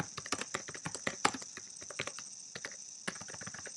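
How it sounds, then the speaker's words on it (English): Rapid, uneven clicking of keys on a computer keyboard, close and fairly loud, with irregular bursts of keystrokes and brief pauses, no voices. "the ever-important typing on the keyboard scene"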